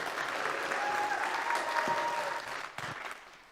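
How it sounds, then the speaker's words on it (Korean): A church congregation at a Sunday service breaks into warm, sustained applause, a dense wash of clapping that holds steady and then thins and tapers off, with a few voices faintly underneath. "우리 다시 한번 큰 박수로."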